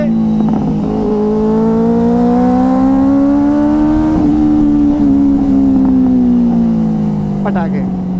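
Motorcycle ridden on an open road, its engine droning steadily with rising and falling pitch, a few sharp exhaust pops crackling near the end, loud and close throughout.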